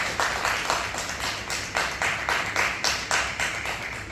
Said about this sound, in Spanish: les pido un fuerte aplauso para los pabellones